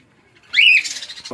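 A caged lovebird, a pied variety kept at a bird shop, gives one loud, close rising squawk followed by shorter rough chatter.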